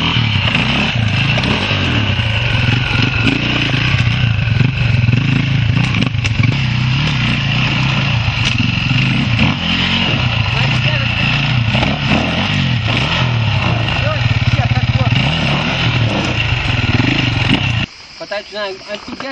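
KTM dirt bike engine running loud and steady while riding over obstacles, with throttle swells and a sudden cut near the end; voices speak over it.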